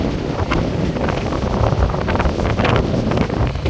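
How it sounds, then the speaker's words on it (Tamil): Strong wind blowing along a main road near water, a loud, continuous roaring rush buffeting the microphone, with irregular gusts and no voices. "காற்றுண்டா அவ்வளோ வேகமாக தான் அடிக்குது."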